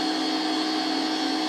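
A Vortex Resonance Coil dual-phase motor rotor spins at high speed with no load, giving a steady, loud, even whine and whir with no variation across the short stretch.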